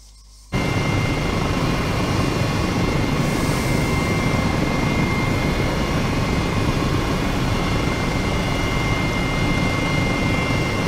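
A helicopter in a flight simulator game cruises over an old airfield, its engine and rotor a loud, steady drone that runs unbroken after a short quiet start, with no talking.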